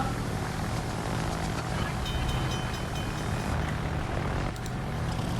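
A game aircraft launched from a warship in World of Warships roars with a loud, steady propeller-engine drone that fills the whole stretch without letting up, dense and close.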